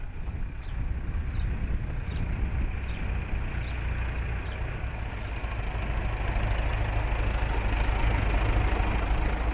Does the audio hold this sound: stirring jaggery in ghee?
no